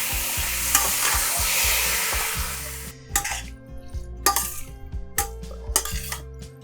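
Chicken pieces fry in a pan for chicken varuval: a steady loud sizzle, then a spoon scrapes and knocks against the pan in repeated clattering strokes as the meat is stirred, close and without talk.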